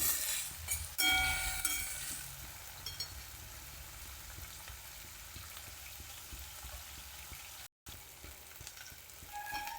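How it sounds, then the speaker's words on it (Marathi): Chopped onions fry in hot oil in a home kitchen pan for a Jalgaon-style brinjal bharit, giving a steady close sizzle that runs throughout with faint clinks of utensils and no talking. "कांदाला सर होईपर्यंत छान असा भाजून घ्यायचा आहे मस्त तेलामध्ये"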